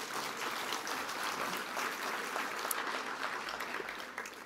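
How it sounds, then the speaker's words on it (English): Steady applause from a conference audience at a transportation summit's closing general session, a dense wash of clapping held at an even, moderate level throughout without clear peaks. "Big round of applause for our two sponsors."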